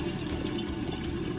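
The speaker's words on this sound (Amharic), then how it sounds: "የላዛኛ ውሃ ፈልቷል።" Water bubbling at a boil in a pot for cooking lasagna, a steady close hiss and churn with no breaks and no voices.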